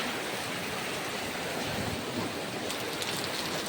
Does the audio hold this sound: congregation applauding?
no